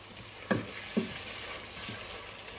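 Chickpea curry paste is stirred in a hot pan, giving a steady close sizzle with two sharp spoon knocks against the pan near the start, then softer scraping strokes.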